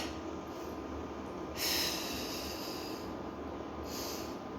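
Slow breaths out and in during a neck and shoulder exercise, two soft breathy airy swells over a quiet background hiss, close and gentle.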